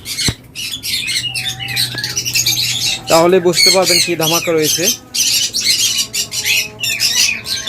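Many locally bred birds at a bird farm squawk loudly and close in a dense, shrill chorus with sharp bursts, while someone talks over the noise.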